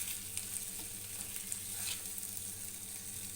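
Fish frying in oil in a pan for a rustic village-style fish recipe, a steady close crackling sizzle with light stirring and flipping clatter, no voices.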